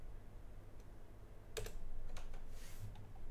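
Typing on a computer keyboard: a few scattered keystroke clicks, faint and irregular, over a steady low background hum.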